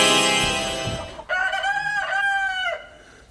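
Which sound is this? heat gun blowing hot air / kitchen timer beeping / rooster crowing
rooster crowing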